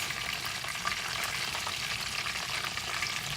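Honey butter chicken wings fry in hot oil with a dense, steady sizzle and crackle, close and continuous, with no voices over it.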